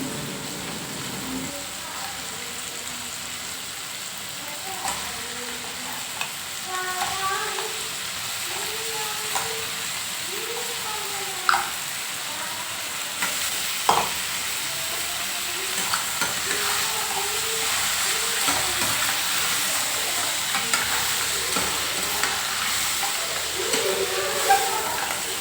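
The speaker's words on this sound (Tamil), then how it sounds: "தக்காளி வதங்கிடுச்சு. நம்ம க்ளீன் பண்ணி வச்ச நண்டை சேர்த்துக்கலாங்க." Crab pieces sautéing with softened tomato and onion in a pan for a Tamil home-style crab dish, a steady close sizzle and frying hiss with occasional stirring scrapes and clinks throughout.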